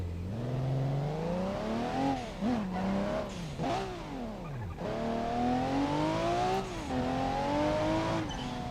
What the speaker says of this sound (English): there's your RB sound